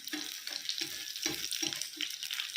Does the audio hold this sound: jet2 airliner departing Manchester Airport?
no